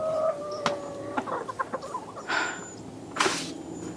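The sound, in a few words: chickens clucking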